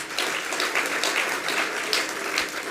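Audience at a Jain sermon by a monk clapping in a steady, dense round of applause, moderately loud and continuous with no voice over it.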